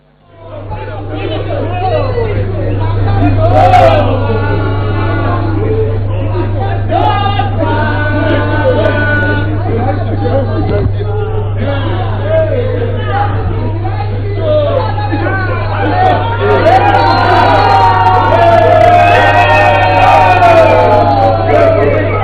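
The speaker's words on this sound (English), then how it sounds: "reactions from some members of the crowd there are celebrating, I'm sure, the victory of President Emerson Mnangagwa" A crowd celebrating Zimbabwe's 2023 general election results, with dense overlapping voices, chatter and excited calls over a constant low hum, loud and sustained throughout.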